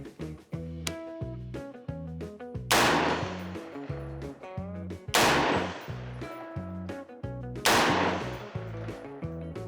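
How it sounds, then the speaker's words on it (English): Rifle shots from a bipod-mounted 5.56 on a ranch, fired at steel targets: three loud, sharp cracks spaced a few seconds apart, each ringing on, with rhythmic metallic tones and pulses running throughout. "We're gonna use the bipod here and plink some steel with the rest of this mag."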